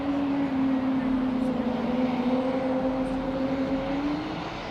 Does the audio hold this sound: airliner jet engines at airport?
yes